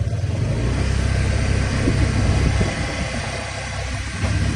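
A motorcycle engine runs steadily close by, a constant low idling rumble with a slight rise in the middle, heard on its own without talk.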